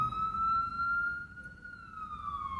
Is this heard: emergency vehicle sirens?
yes